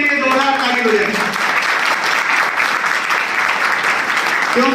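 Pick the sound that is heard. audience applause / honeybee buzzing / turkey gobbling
audience applause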